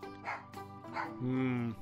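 Near, loud barks and whimpers from a dog in the room, a few short yips followed by a longer drawn-out whine. A voice runs alongside.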